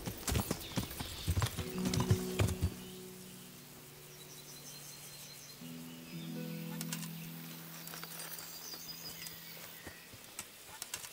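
Rhythmic clip-clop of horse hooves with a brief whinny in the video game Kingdom Come: Deliverance, sounding slightly synthetic, alongside occasional bird calls and light clicking; no talking.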